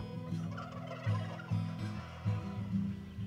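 Several turkey toms gobble in repeated rippling bursts on a turkey farm, close and fairly loud, with a steady flock murmur underneath and no talking.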